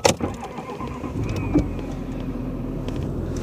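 A car held on the brake with the left foot in sport mode while the engine revs toward 2000–3000 rpm for a launch-control start, a steady loud engine drone with a sharp onset and a brief surge midway.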